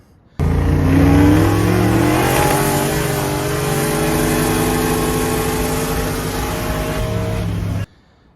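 A 1200hp VH Commodore street car roars loudly through a hard launch, its engine revving with strong rising harmonics that hold steady for several seconds before cutting off abruptly.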